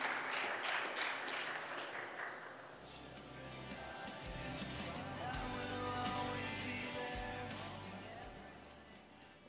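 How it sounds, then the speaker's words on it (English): A church congregation applauds during an Education Sabbath service, soft distant clapping that swells and fades under a speaker's voice and room noise. "Let's give them a hearty amen, a round of applause."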